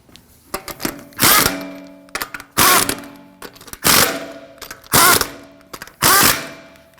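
A power tool snugs down the tie rod bolts on a 2016-2022 Honda Pilot in five loud, short bursts, each followed by a pause, with small metallic clicks between them.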